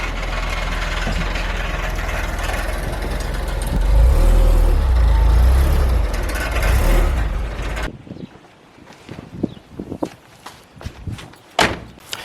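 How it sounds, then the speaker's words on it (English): A 1990 Nissan 240SX S13 hatchback with a loose heat shield idles loudly with a deep engine drone and rattle, then the noise cuts off abruptly, leaving scattered clunks and knocks close by. "Ignore that rattling sound when I pulled out. It's literally just the heat shield."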